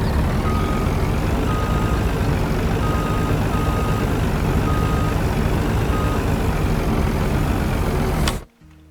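Loud steady truck engine rumble in Farming Simulator 19 with a repeating high reversing beep pulsing throughout, then abruptly cutting off near the end.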